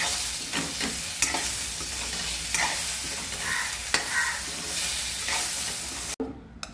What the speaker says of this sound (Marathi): मध्यम छोटे दोन टमॅटो मी चिरून घेतले होते ते घालणार आपण भाजून घेऊया चांगले